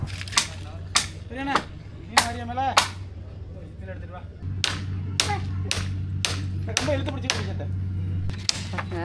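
Nails being hammered into a wooden roof frame: sharp, distinct metallic-wood strikes in irregular clusters, some ringing, over a low steady hum with faint voices in the background.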